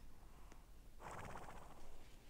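American Quarter Horse neighing in the Horse Valley 2 video game, one loud whinny rising after a faint click, followed by a few softer snorting breaths.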